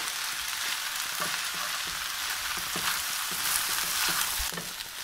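Mongolian-style beef tenderloin is stir-fried with sauce in a hot pan. A loud, steady sizzle runs throughout, with soft rhythmic thumps from the tossing.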